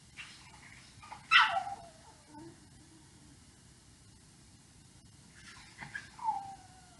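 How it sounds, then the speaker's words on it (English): A dog outside whimpers and yelps to be let in, two short bursts of crying a few seconds apart, fairly faint and distant against quiet room tone, with a speaking voice nearby. "I don't know if you can hear my dog outside."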